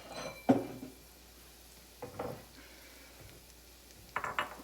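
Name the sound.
small bowl being taken out, dishes clinking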